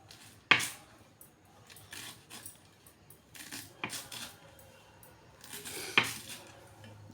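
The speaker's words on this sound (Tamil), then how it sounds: "அருவாமனையில் அரியும் போது ரொம்ப பார்த்து கேர்ஃபுல்லாக அரியணும்." Baby cabbage being cut on an aruvamanai blade: scattered crisp metallic clicks and chopping taps, two sharper impacts standing out among softer cuts and faint handling noise.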